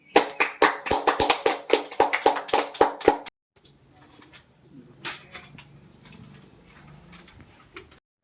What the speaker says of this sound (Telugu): అందరు క్లాప్స్ కొట్టండి